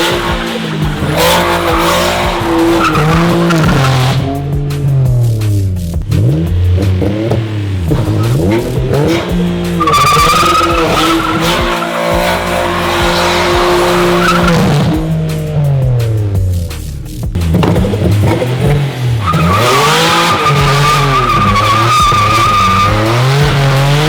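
Nissan 350Z drift car with a VQ engine doing burnouts: loud, continuous engine revving rising and falling in waves, with tire squeal and skidding throughout, close and unbroken.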